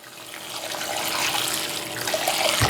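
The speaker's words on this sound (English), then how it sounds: "And then we add water." Water pours steadily into a bowl of sunflower seeds, a continuous close splashing rush that holds even through the short pour.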